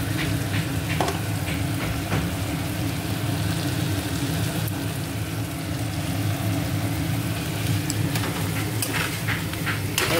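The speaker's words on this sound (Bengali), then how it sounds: "এবার আদা টমেটোটা ভালো করে ভেজে নেবো।" Ginger and tomato fry in a pan with a steady, dense sizzle, close and loud throughout, broken by occasional scraping clicks of stirring.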